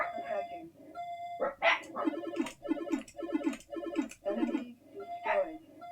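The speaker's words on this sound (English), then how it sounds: "Excuse the dogs." Dogs bark and whimper in a burst of repeated yelps, close to the microphone, mixed with the bleeps and synthesized voice alerts of a ZX Spectrum shoot-'em-up game playing in the background.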